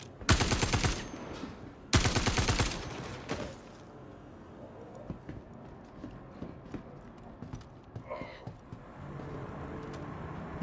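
Two loud, rapid bursts of automatic gunfire from Star Citizen open the scene, followed by quieter scattered shots and clatter, close and harsh at first, then sparser.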